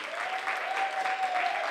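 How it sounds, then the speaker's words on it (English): An audience at a contemporary voice faculty recital claps steadily for the performers, a soft, even wash of applause with a faint sustained tone running underneath. "A round of applause for all of the performers tonight"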